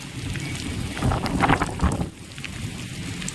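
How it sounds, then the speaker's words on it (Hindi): Dense, heavy rain pours in a constant wash, swelling briefly louder with a low rumble in the middle before settling back. "बहुत जोर से बारिश आ रही है।"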